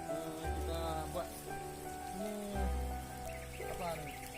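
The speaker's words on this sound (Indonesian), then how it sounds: "Soalnya udah hujan nih." Rain patters steadily on surfaces outdoors at a fishing spot, a continuous soft wash beneath a voice talking over it.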